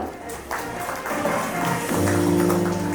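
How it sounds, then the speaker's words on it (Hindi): An award ceremony audience claps for a student, a dense, moderately loud patter that carries on throughout, with a voice and tonal sound layered over it in the second half. "खुशी कुमारी के लिए तालियां।"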